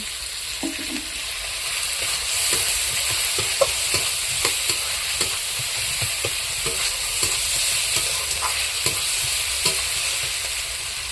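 Ginger paste and crushed cardamom fry in hot oil for ghugni, a steady sizzle broken by repeated clacks of a spoon stirring the pan, close and even throughout.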